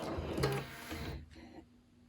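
A sewing machine stitches in place during free motion quilting of a pillow: a dense, close mechanical whirr for about a second, then it eases off into a quieter hum.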